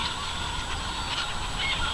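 Chickens on a pasture field give off a steady, dense clamour of clucking and squawking that runs continuously at a moderate level, with no talk.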